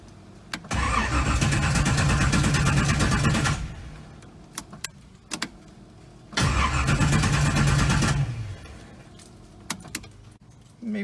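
A Datsun 280Z's starter cranks the engine in two long bursts of about three seconds each, separated by a pause with light clicks and key jingles. The engine does not catch, and the battery sounds weak.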